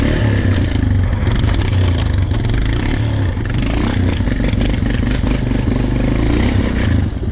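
A Honda TRX450 ATV ripping through snow, its engine revving hard and continuously up close with rattling clatter and scraping throughout, loud and unbroken, with no one talking.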